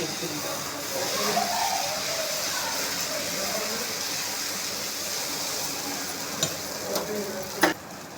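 Dosa batter with egg is poured onto a hot griddle, giving a soft steady sizzle and hiss, with a few sharp clicks and scrapes near the end and faint voices in the background.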